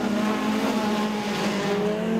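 Ford Sierra race car at Kingaroy Speedway, a National 4's A-Main season opener, its engine howling loud and close with a sustained, rasping drone throughout.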